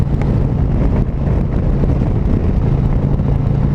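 Loud, steady wind rush buffeting the rider on a 2019 Harley-Davidson Road Glide Special touring motorcycle, with the engine's low drone underneath, continuous throughout with no talking.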